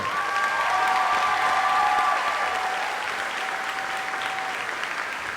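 Steady applause fills an auditorium for a senior prom court and graduating seniors, dense and sustained for several seconds with a few voices and whoops rising above the clapping.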